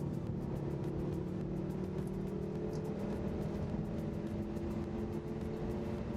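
A stock car with boost pulls hard at wide open throttle in third gear, its engine tone rising steadily and loud over constant road and wind roar, with faint rhythmic ticking above.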